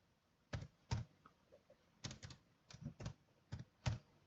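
Code is typed on a computer keyboard as a run of faint, close key clicks in small uneven clusters, alone in a quiet room.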